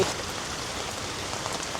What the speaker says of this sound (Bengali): তো গাইস বৃষ্টির পরিমাণ সেই বাড়ছে।